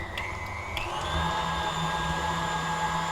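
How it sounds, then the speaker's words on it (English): An electric mixer whisks a glaze of syrup and vanilla sugar, giving a steady whirring motor drone with a few light clicks early on, close and constant for a few seconds with no voices. "And let's let it whisk until it's just nice, soft and fluffy as it should be."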